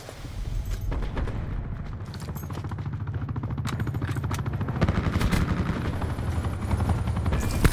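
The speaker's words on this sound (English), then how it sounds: "Attack chopper available for tasking." Attack helicopter in a military video game, a steady rotor chop with dense gunfire and explosions layered over it, loud and continuous throughout with brief sharp bursts.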